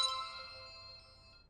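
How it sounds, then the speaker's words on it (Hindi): A phone rings with an incoming call, a single bright, bell-like tone that starts strong and fades slowly over a second and a half, faint and alone. "अरे कपूर साहब का फोन।"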